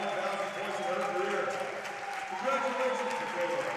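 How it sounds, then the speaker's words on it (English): Gymnasium crowd at a women's college basketball game giving a standing ovation, sustained applause and cheering filling the hall at moderate distance, with voices in the crowd mixed in. "So a standing ovation here from the Cousins Gymnasium crowd."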